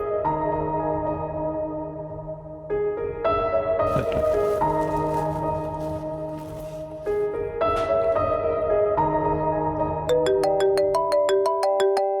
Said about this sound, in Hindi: मामा, बाबा का फोन आ रहा है।